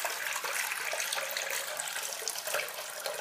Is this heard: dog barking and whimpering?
no